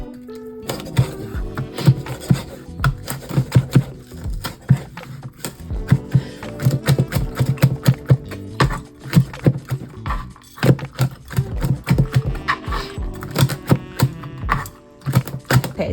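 A knife slices through air-fried bacon on a cutting board, giving repeated sharp taps and scrapes in an irregular rhythm, close and fairly loud, with no talking.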